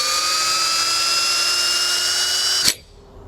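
The electric drive motor of a Hyundai Kona fitted with new bearings spins up as a steady high-pitched whine with tonal harmonics, then cuts off abruptly with a click, leaving near silence.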